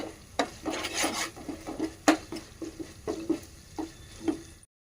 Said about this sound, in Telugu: ఇది మంచిగా నూనెలో మంచిగా వేగాలి వేగితే మంచిగా ఉంటుందండి